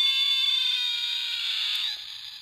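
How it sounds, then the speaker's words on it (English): Electronic 1993 Velociraptor toy sounding its single roar: a sustained, shrill synthetic screech lasting about two seconds, loud and close, then dropping off abruptly. "this is the 1993 electronic Velociraptor. This guy makes noises, which is this noise."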